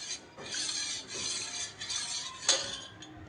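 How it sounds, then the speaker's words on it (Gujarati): A spoon stirs curd starter through lukewarm milk in a bowl, giving soft scraping and clinking strokes at a steady pace, close up and fairly quiet, with a sharper knock near the end and no voices. "પછી એને આપણે જે નવશેકું દૂધ છે એની અંદર રેડી દેવાનું છે અને એકવાર હલાવી લઈશું"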